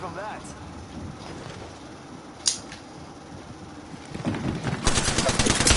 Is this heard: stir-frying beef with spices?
no